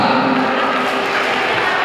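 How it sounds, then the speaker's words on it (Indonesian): A big crowd at an anniversary celebration for a family clan association claps and cheers, the applause loud, continuous and close, with voices rising through it. "Tepuk tangan untuk Jorang Raja se-Indonesia."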